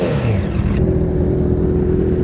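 Honda CBR1000RR motorcycle with an aftermarket exhaust revs up and then settles into a steady, loud engine drone, heard close with no talking.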